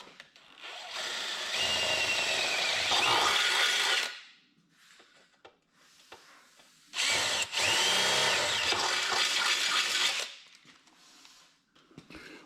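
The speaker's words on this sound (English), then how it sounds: "So now we'll drill a hole into the frame" A power drill bores a hole into a snow bike frame in two long, loud, steady whining bursts of about two and a half seconds each, separated by a quiet pause with small handling clicks.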